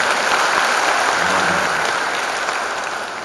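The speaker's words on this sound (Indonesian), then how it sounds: "Mari kita beri tepuk tangan." Audience applause fills a university graduation ceremony hall, a steady dense wash of many hands clapping at once that holds throughout and tapers slightly toward the end.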